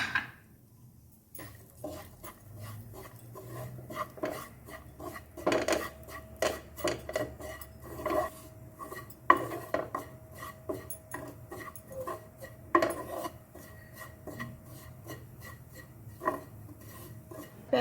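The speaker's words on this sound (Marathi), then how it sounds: "आता त्याच कढईमध्ये खोबरं थोडं परतून घेते" Repeated scraping and clinking of a spatula stirring grated coconut, dry-roasting in a metal pan, irregular strokes over a quiet background.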